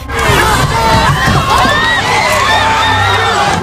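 A large crowd of protesters on a city street in Minneapolis shouts and whoops together, loud and close, a dense roar of overlapping voices with cheering cries rising throughout.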